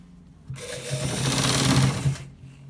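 A sewing machine runs steadily for about two seconds, stitching a shirt's top part during a designer button shirt tutorial, with a quick start and a tapering stop; no one talks over it.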